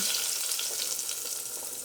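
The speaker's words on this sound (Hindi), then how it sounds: "हमारा तड़का लग गया" Steady, crackling sizzle of spices tempering in hot oil for masoor dal, continuous and close, with no talking.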